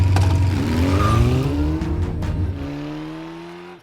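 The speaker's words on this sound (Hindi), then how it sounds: "चला अब एक्सीलेटर दबा।" A car engine revs hard as the accelerator is pressed, a loud rising roar that climbs in pitch, then holds and fades into a steady high drone.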